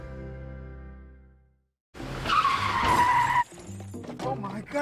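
A truck skids with a sharp, loud tire squeal that rises and holds for about a second, then a crash-like burst, after a sustained low tone and a brief silence, in a comedy skit.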